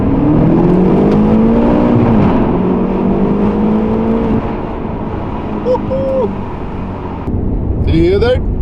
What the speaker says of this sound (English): Dropping the glasses a little down, dropping a few gears and doing a sound check.